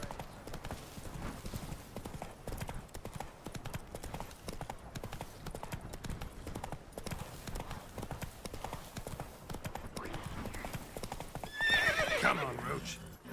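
Roach, the horse in The Witcher 3, trots with a steady rhythmic clip-clop of hooves while voices talk over it, and a loud whinny rises near the end.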